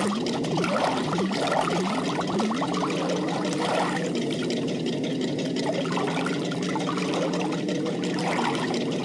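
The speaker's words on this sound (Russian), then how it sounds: "Дальше в отсек с голубым квадратом заливаем мыльный голубой раствор." Blue soapy liquid pours into a toy boat's compartment in a children's cartoon, a steady gurgling trickle with bubbly splashes over a faint engine-like hum.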